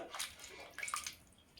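Cut pumpkin pieces being washed and drained in water, with soft, brief sloshing and trickling splashes close by at low volume.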